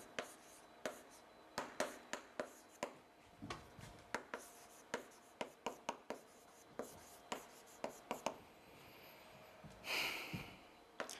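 Marker writing on a board during a high-school math lesson on sets and propositions, a near, quiet series of short squeaky strokes in an irregular rhythm, ending in a longer rubbing scrape.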